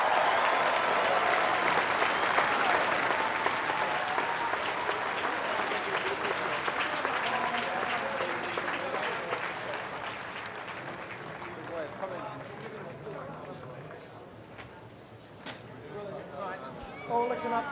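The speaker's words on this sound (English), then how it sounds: "I'll let the crowd give you a good cheer to say goodbye." A large crowd at the Goodwood Festival of Speed claps and cheers in a long, loud ovation that gradually thins and fades toward the end.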